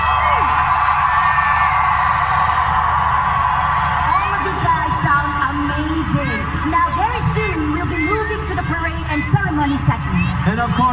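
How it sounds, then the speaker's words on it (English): A huge crowd in the blue sector at Singapore's 2019 National Day Parade on the Padang screams loudly in a sustained, dense roar, with individual voices and yells rising above the mass of sound. "I want my beautiful blue sector to scream as loudly as you guys can."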